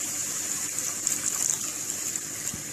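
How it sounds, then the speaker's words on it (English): Milk poured into a pan for a Navratri fasting recipe, a steady close liquid stream with a bright splashing hiss, heard alone with no talk. "next we are going to add in milk."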